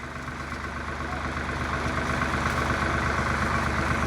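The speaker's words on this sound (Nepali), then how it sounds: "ट्र्याक्टर थरेसर लगाएको गाइज मकै ट्र्याक्टरभरि छ" A tractor fitted with a maize thresher runs its engine steadily, a continuous loud low rumble and droning hum with no breaks, close by and without talk.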